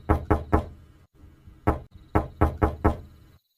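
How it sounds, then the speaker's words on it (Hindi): Hard, resonant knocks on an old wooden door in an animated horror story: a quick burst of three raps, a pause, then another single knock followed by a further run of knocks, loud and close. "एक पुराने लकड़ी के दरवाजे पर 3 बार दस्तक हुई।"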